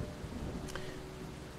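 Steady rain pours down in a post-apocalyptic video game with a thundery low rumble, a continuous dense hiss with no voices over it.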